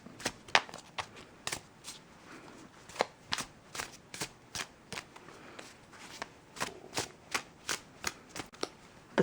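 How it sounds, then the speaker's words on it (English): Overhand shuffling of a first-edition Tarot of Prague deck with matte cardstock: a steady run of crisp, close card slaps and riffly flicks in an uneven rhythm, fairly quiet, with no talking. "I'm going to overhand shuffle it from now on."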